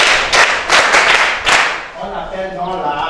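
Short burst of applause from a classroom of students clapping for a classmate, dense and close for about a second and a half, then fading out as voices take over.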